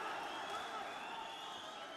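Home crowd at a World Series Boxing bout, a dense sustained roar of cheering and shouting that fills the arena evenly and stays loud throughout.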